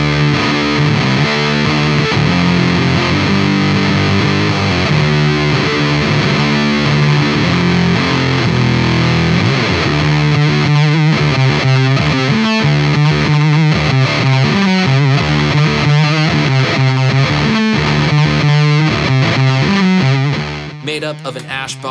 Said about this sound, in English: this is the Rye, a very classy looking guitar that sounds as mean as it looks